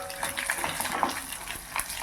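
Coriander seeds, dried chillies and grated coconut dry-roasting in a pan for a vallarai keerai thuvayal, a dry crackling rustle with scattered clicks and scraping stirs throughout.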